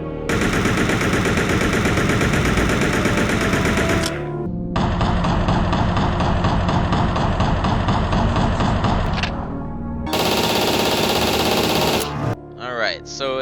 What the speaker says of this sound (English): There's the assault rifle. Same firing sound, fire rate as in the original Code Veronica.